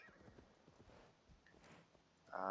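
Horse hooves clip-clop in Assassin's Creed Valhalla, a run of soft, fairly close hoofbeats at a walking pace, ending with a louder burst as a whinny breaks in.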